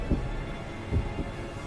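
A fast heartbeat in the horror game Spirit Hunter: Death Mark II, low muffled thumps in quick pairs over a steady background hum.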